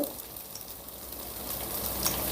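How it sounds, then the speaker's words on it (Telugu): Ginger garlic paste frying in a pan for a simple chicken curry gives a steady, close sizzle and crackle throughout, with no talking over it. "ఈ అల్లం వెల్లుల్లి పేస్ట్ని పచ్చివాసన పోయేంత వరకు ఫ్రై చేసుకుందాం"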